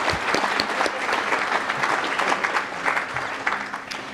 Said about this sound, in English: if we could give a round of applause for the sponsors, that would be great